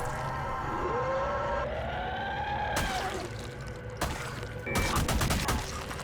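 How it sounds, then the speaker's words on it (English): Gunfire in the zombie survival game Project Zomboid: a few sharp, separate shots ring out over a wavering, siren-like alarm tone and a steady background. "Then, I fired a shot to draw them in."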